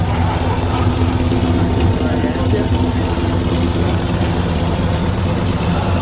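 A blue 1965 Chevrolet Impala Custom with a 400 CI engine runs with a steady, loud low rumble throughout, a brief voice speaking over the engine noise.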